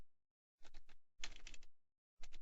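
Typing on a computer keyboard while coding a game mode: three short, quiet bursts of rapid keystrokes separated by brief silences.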